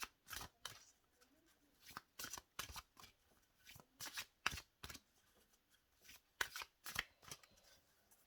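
Oracle cards being shuffled by hand, a string of quick riffling bursts repeated in irregular rhythm, close and crisp against near silence with no speech.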